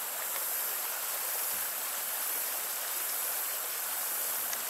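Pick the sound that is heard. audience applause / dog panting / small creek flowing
small creek flowing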